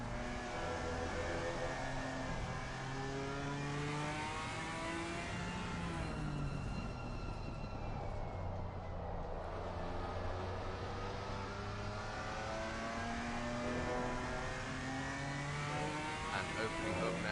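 Race car engine in a sim racing game at the Nürburgring, running through turn 1 into the Mercedes arena: a steady engine drone with rising and falling pitch through gear changes, continuous and fairly loud throughout.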